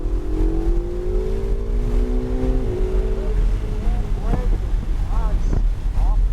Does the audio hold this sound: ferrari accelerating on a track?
yes